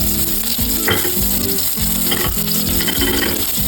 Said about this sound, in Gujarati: તેલ બહુ થઈ ગયું છે તો ડાયરેક્ટ ઓનિયન એડ કરી દઈએ